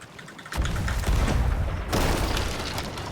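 In Sea of Thieves, a cannon shot strikes a ship's mast with two heavy booming impacts in quick succession, loud and close, with rumbling crashes trailing off after each hit.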